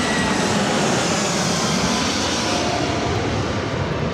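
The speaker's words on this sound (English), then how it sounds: "This arrival is Delta Airlines" A Delta Airlines A320 arriving at LAX from San Francisco roars steadily and close, a loud broadband jet rumble that holds for the whole stretch with no voices.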